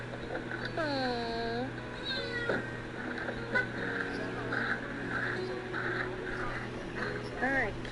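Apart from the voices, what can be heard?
cat meowing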